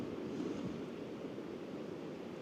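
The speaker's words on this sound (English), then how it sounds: "Got some big waves crashing out over there as well." Big sea waves on the Devon coast roll and break at a distance, a continuous low rumbling wash mixed with wind.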